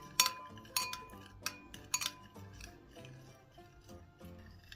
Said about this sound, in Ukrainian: Ретельно все змішуємо і заправка вже для салату готова